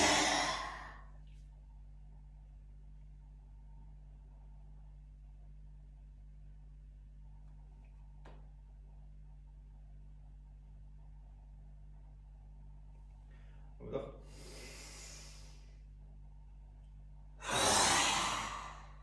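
Deep breaths during a yoga breathing exercise, loud sighing breaths at the start and two long strong breaths near the end, with quiet stretches between them.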